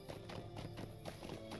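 Horse hooves clip-clopping at a steady trotting rhythm while riding in the online game LOTRO, soft and close with about a dozen regular beats.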